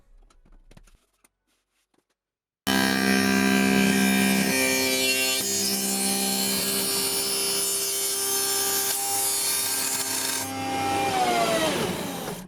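A loud, steady whine of a table saw with a dado blade cutting a slot into plywood runs for several seconds after a brief quiet start, pitch shifting slightly near the end.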